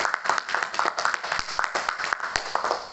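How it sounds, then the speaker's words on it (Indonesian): Students in a history class clap for a group's presentation, a quick run of individual claps from a small group, close and fairly loud, with a few sharper hits standing out. "Boleh tepuk tangan."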